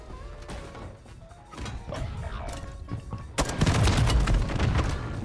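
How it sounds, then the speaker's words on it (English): Gunfire and explosions in the battle royale video game Call of Duty: Warzone, scattered shots and thuds growing into a dense burst of loud gunfire and booms in the second half. "I'm taking fire!"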